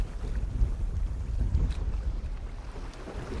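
Strong wind buffets the camera microphone aboard a small fishing boat on open water, a loud, continuous low rumble with gusty surges and no voices.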